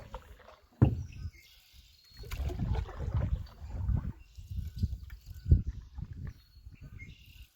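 A canoe is paddled upriver on a creek, with a few separate soft paddle strokes and gentle water swishes at close range. Quiet gaps fall between the strokes.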